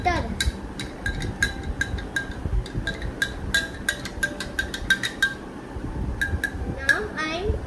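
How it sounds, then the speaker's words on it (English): Salt stirred into water in a glass during a school science demonstration, a rapid series of close, bright spoon clinks against the glass over a soft murmur of background voices. "Now mix the salt"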